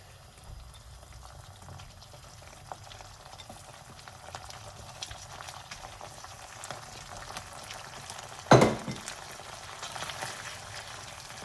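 Extra lean beef mince fries in a pan of keema curry mixture, a faint, steady sizzle and bubbling, with one sharper scrape or stir near the end.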